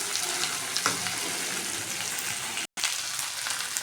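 Dried fish frying in a pan with onion, turmeric, green chili and garlic, a steady close sizzle with faint stirring scrapes and a brief cut near the end.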